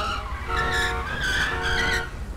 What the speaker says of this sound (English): this idiot is just turning his tires the whole damn time